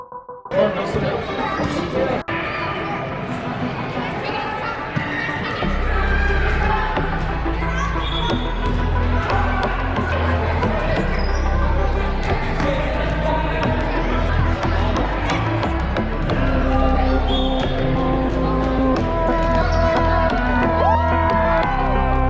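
A loud crowd at a Boston basketball game cheers, whoops and chatters in a dense, sustained roar, with shouting voices close by and a low rhythmic thumping underneath.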